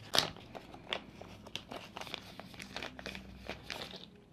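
Sealed plastic packaging around an electric gadget is torn open and crinkled, giving close, quiet crackling, crumpling and tearing sounds in irregular bursts, with no voices.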